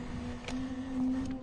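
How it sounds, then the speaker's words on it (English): A printer runs inside a horror video game, giving a short, steady mechanical whir with a faint tonal hum and a few soft clicks, heard alone without talk. "Is this printer actually working?"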